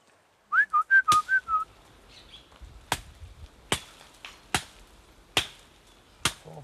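A person whistles a quick series of short rising and falling notes at an iguana outdoors on Bonaire, followed by several sharp, isolated clicks or snaps spaced over the next few seconds against a quiet background.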